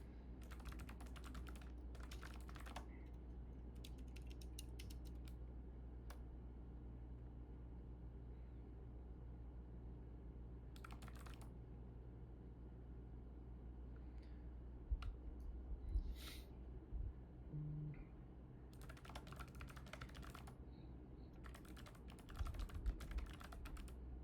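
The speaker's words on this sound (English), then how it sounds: "After I type in all my card details." Card details being typed on a computer keyboard during a meetup: intermittent bursts of light, close key clicks separated by pauses, over a constant low hum and rumble, with no talking.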